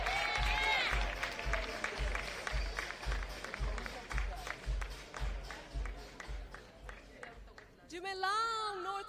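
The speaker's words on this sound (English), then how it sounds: "A round of applause for her." An audience at a podium ceremony claps for a young woman as she is introduced, with a burst of scattered, fading applause between voices that speak at the start and again at the end.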